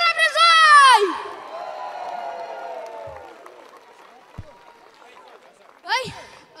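Crowd cheers and whoops at an outdoor summer-camp folk concert in Brezoi, a loud burst at first that thins into scattered shouting and clapping, with a host's voice calling over it and another shout rising near the end.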